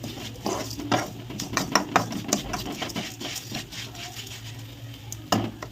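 Already-roasted dal being tipped into a hot pan and fried, with scraping and clinking of a spoon against the pan in uneven bursts over a low steady background hum.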